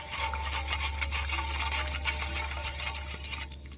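A spoon stirs a heaping spoonful of salt into water for a homemade cockroach spray, producing a steady scraping, swirling rub against the container with faint clinks, close and continuous, with no talk.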